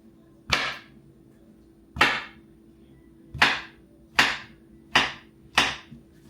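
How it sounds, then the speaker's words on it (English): Six sharp, separate knife chops through a banana onto a cutting board, each a crisp knock with a short decay, spaced unevenly and speeding up toward the end, close and clear with no speech. "We finna chop up the banana."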